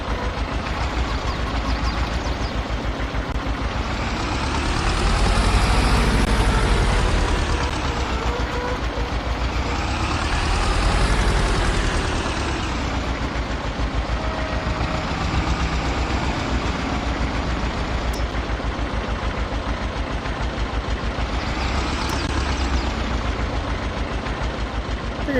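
A tractor engine idles in Farming Simulator 22 on an old Polish farm, a steady low rumble that swells and eases in slow waves, loud and continuous throughout.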